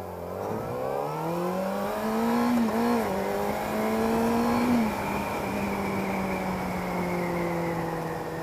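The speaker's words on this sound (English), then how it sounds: "And the bike does accelerate now." Motorcycle accelerating after its first service, a steady engine note rising in pitch with a gear change around mid-clip, close and continuous with no talk.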